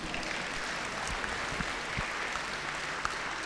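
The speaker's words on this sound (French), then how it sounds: "On applaudit le Seigneur." A church congregation claps together in praise, a dense, steady round of applause with a few louder individual claps standing out near the front.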